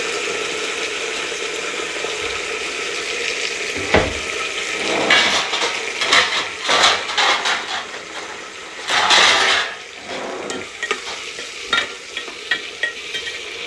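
Mint, curry leaves and coriander frying in a pan for kushka rice, with a steady sizzle under repeated stirring scrapes and a few louder clatters of the spoon against the pot, close and alone without talk.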